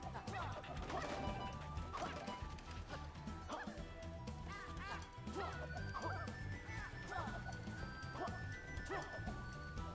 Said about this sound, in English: Dog is going off.